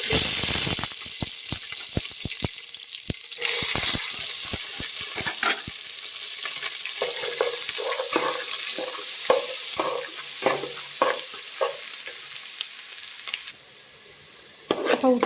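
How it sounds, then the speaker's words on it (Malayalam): Garlic frying in a pan, with a close hissing sizzle punctuated by frequent sharp clinks and scrapes of a utensil against the pan, then a brief quieter stretch near the end. "ഫസ്റ്റ് നമുക്ക് വെളുത്തുള്ളിയൊക്കെ ഇട്ട് കൊടുക്കാം"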